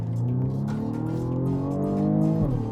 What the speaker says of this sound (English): Those gear changes are brutal.